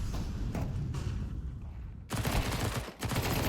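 Rapid SMG fire crackles during a Counter-Strike match, with a loud burst arriving after a quieter stretch of scattered shots and thumps, close and dense.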